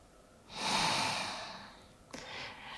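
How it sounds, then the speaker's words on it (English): A single slow deep inhale during a yoga stretch, close and breathy, swelling then tapering, followed by a softer start of an exhale. "Take another breath here."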